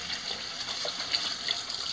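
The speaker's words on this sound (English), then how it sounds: "you want to let the water drain out a little bit" Excess water draining from freshly wet bait papers, a steady light trickle and patter of liquid running off, faint and close with no talk.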